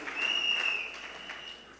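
Audience applause at an evening slate launch event in a hall, a steady patter of clapping that swells early then gradually thins out over a couple of seconds.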